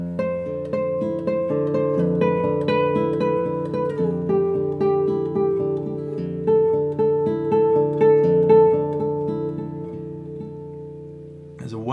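Classical guitar playing a passage, plucked notes ringing over sustained bass at a steady pace, close and clear, with no voices.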